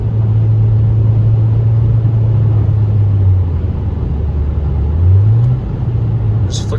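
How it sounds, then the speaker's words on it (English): Car engine humming steadily at raised revs as the gas pedal is flicked, the low drone dipping then climbing back up, close and loud inside the cabin with no talking. "Just flick the gas pedal."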